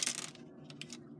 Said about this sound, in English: I also possibly dropped a screw where it was going to be hard to get it back.